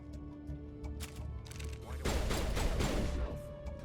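A combat turret in Mass Effect fires, first in scattered shots under a steady background hum, then erupting midway into a louder, dense burst of rapid fire that carries on to the end.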